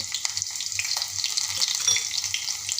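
Onion goes into hot oil for a restaurant-style veg Kolhapuri and sizzles with a steady, moderately loud hiss, with soft clinks and light background noise.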